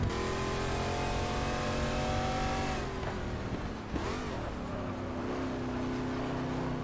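A De Tomaso Pantera V8 in the GT Legends racing game at Spa-Francorchamps, engine note revving high and steady, then dropping sharply through an upshift around mid-clip before climbing again, loud and continuous with no talk.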